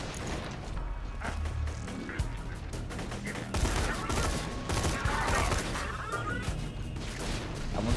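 Rapid SMG fire in Borderlands 2: dense, close bursts of shots crackle almost without pause over roughly eight seconds, mixed with impacts and game effects.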